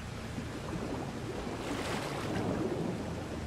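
Waterfalls in the video game Conan Exiles pour continuously, a steady, soft rushing roar of falling water with no voices over it.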